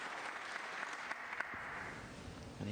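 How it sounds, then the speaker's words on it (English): Polite audience applause in a snooker arena during a UK Championship match, a soft, even patter of clapping with a few sharper claps, fairly distant and subdued. "Applause for frame ball."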